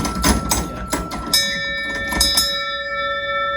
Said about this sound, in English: There's an old nautical tradition of using the bell to render honors to distinguished visitors.